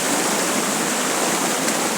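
River water flows in a constant, dense rushing hiss, close and loud, with no breaks or voices over it.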